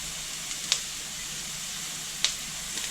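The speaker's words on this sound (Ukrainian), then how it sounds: "Також обсмажую все разом." Onion and carrot frying in a pan, heard as a steady close sizzle with a few soft clicks and taps.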